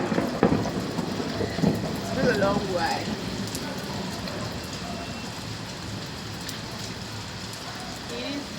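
Rain falls steadily outdoors, an even patter on surfaces lasting throughout, while a person speaks briefly over it early on.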